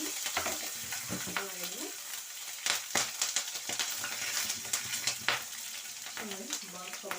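Green chilies and pepper sauté in a hot pan for khara pongal, a steady close sizzle with stirring scrapes and a brief spoken word over it.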